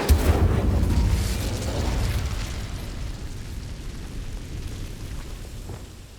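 An Incendio fire spell cast in Hogwarts Legacy bursts with a loud whooshing boom at the start, then fades into a long rushing roar of flame that slowly dies down.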